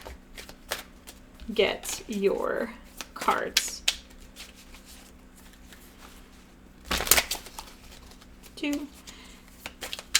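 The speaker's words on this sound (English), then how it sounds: "I'm going to give it 3 shuffles" Several quick bursts of tarot cards being shuffled, crisp riffling flurries separated by pauses, with a person speaking softly between them.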